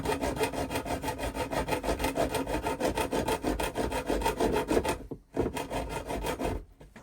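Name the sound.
hacksaw cutting a slot in a boiler pipe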